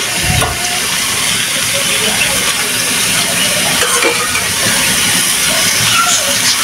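Pointed gourd and potato pieces sizzle steadily in hot oil, a loud continuous hiss with occasional stirring clatters near the start and middle.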